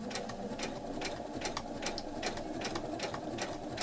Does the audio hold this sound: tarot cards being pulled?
no